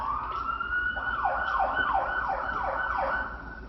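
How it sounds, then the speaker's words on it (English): An emergency vehicle siren wails in a repeating rise-and-fall pattern, several cycles over a few seconds, fairly loud and steady with traffic-like background noise and no talking. "Hear that siren."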